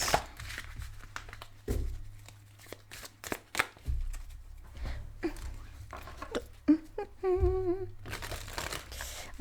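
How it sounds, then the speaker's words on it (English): Round tarot cards being shuffled by hand, giving irregular papery riffles, slaps and crinkles at close range. The sound runs throughout, with brief bursts of voice or music between the shuffles. "I love my round decks, but they are an adventure to shuffle"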